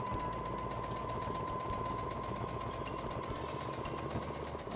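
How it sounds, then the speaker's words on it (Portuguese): A sewing machine runs steadily, stitching two pieces of cloth together for a cloth diaper holder, its motor whirring in a continuous, even drone throughout with no pauses and no voices. "Aí, já finalizei a parte da costura."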